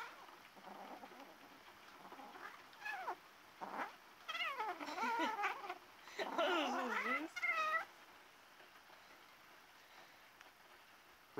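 A cat at play gives a run of chirping, trilling meows in short bursts, fairly close and moderately quiet, with a brief voice nearby.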